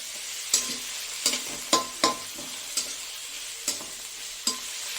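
Plain chicken fries with a steady sizzle in a pan while a utensil stirs it, scraping and clinking about seven times at an uneven pace, close and fairly quiet, with no talk.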